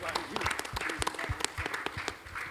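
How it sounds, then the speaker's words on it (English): A conference audience claps for panelists in a short, fairly faint burst of scattered applause, with a voice talking over it. "big round of applause"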